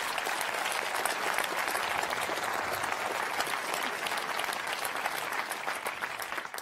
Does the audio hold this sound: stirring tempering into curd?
no